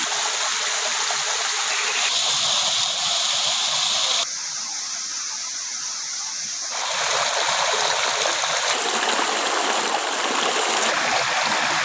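Water rushes steadily at Tagbubonga waterfall, a loud continuous roar of falling and flowing water up close, dipping briefly in the middle before surging back, with no voices over it.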